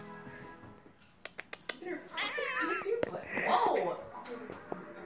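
A pet cat meows close by in a house, drawn-out and wavering, almost a yowl, after a few sharp taps, while people talk.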